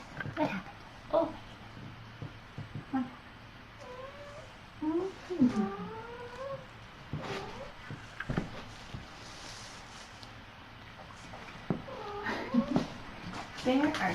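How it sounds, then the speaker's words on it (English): Tiny kittens in a room give a series of high, thin meows, several overlapping and in bursts, while a person talks in between. "There are kittens everywhere in this room."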